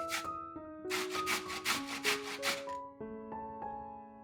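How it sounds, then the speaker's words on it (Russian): A carrot is rubbed against a fine grater in quick, close back-and-forth rasping strokes, a rhythmic scraping burst over soft background music. "Одну морковь трем на мелкой терке."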